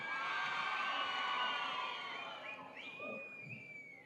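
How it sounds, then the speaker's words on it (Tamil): Crowd at a film pre-release event cheers and whoops for a guest on stage, a dense, loud wash of voices that holds steady, then thins slightly with a few higher shouts toward the end. "ஒரு பெரிய கைத்தட்டல்"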